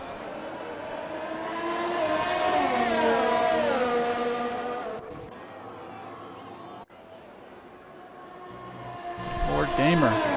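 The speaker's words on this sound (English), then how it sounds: "We already got cars out on track." Racing game race cars out on a rainy qualifying session at a Belgium track, engines droning and shifting pitch as they run laps, with a brief cut and more revving toward the end.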